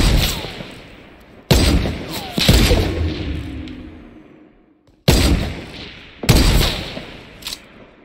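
Gunfire in the video game Fortnite: two loud pairs of sharp shots, each followed by a long decaying echo, with a quiet gap between the pairs and almost no talk.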